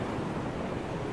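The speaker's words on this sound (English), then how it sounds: "I love how you can still just hear the water and the waves." Ocean waves washing in the game Dear Esther near a shipwreck, a steady broad wash of surf with wind, continuous and fairly loud with no voices.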